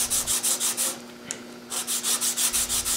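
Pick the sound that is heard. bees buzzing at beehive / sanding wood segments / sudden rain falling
sanding wood segments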